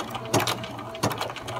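A BERNINA sewing machine stitching a Spanish hemstitch runs in short bursts of rapid needle clatter, two louder spells of stitching against a steady mechanical hum, close and clear.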